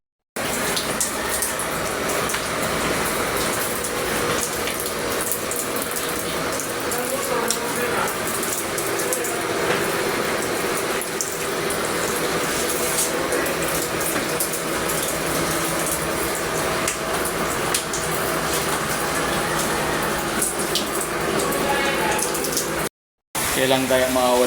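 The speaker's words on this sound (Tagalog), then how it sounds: "Kailan kaya mawala ang ulan na ito, no?" Heavy rain pours in a loud, dense, continuous wash that hardly varies, cutting off briefly near the end, with voices talking under it at times.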